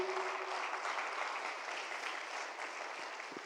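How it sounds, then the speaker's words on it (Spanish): A church congregation claps together in a steady, even wash of applause that holds at moderate loudness for a few seconds, with a faint voice near the start. "Denle un aplauso al Señor"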